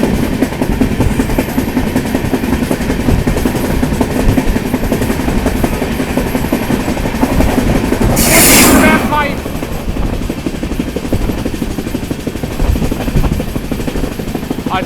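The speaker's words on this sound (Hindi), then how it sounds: "अमृत भारत के साथ क्रॉसिंग हो रही है भाई।" Amrit Bharat Express trains crossing at speed, a steady loud rumble of the moving train with a brief rushing burst as the other train sweeps past; a voice talks over it.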